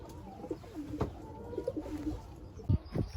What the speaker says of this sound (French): Oh, un petit oiseau. Regardez, un petit oiseau.